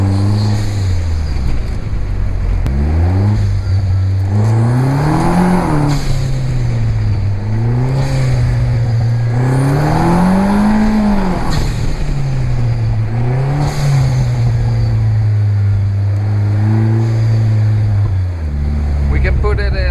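A Vanderhall Venice Speedster engine drones loud and close while driving in Monte-Carlo, Monaco, its pitch rising and falling through repeated accelerations and gear changes under steady wind noise.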